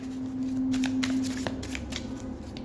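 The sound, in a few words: tarot cards being handled and drawn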